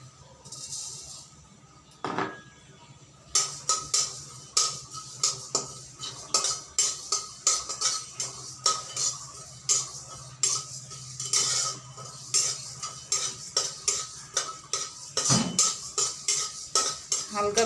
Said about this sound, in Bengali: আমি প্রথমে মশলাগুলোকে ভেজে নিচ্ছি